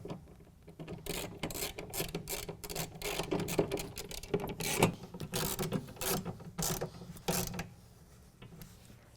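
Torx bolts are snugged down into an aluminum bracket on a Bakflip tonneau cover, producing a close, repeated ratcheting click and rasp in quick bursts for several seconds.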